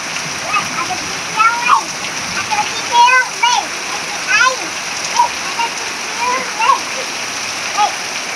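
Steady rain falls beside a house during a heavy downpour that floods the area, a constant hiss of drops on surfaces close by, with children's voices chirping over it throughout.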